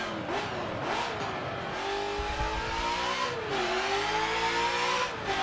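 A Ford Mustang RTR Spec 5 in Forza Motorsport 7 revs hard and climbs through its gears, the engine note rising in pitch and dropping at each shift before climbing again, loud and close with no talk.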